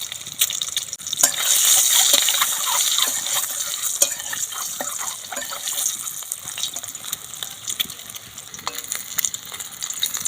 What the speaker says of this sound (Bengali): কড়ার মধ্যে দিয়ে দেবো সরিষার তেল। তেল গরম হয়ে গেছে, তেলের মধ্যে ডিম দিয়ে দেবো।